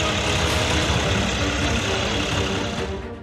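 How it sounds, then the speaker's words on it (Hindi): A tractor engine runs steadily as it drives over a standing, ready wheat crop on a five-bigha farm field in Shamli, a loud, dense rumble that eases slightly at the end. "यहाँ के रहने वाले किसान देवेंद्र ने अपने 5 बीघा खेत में तैयार खड़ी गेहूं की फसल पर ट्रैक्टर चला दिया"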